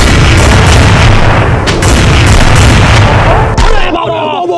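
Video-game gunfire rings out as players go for headshots, dense booms and shots over a loud, busy mix, with voices shouting through it before the firing cuts off near the end.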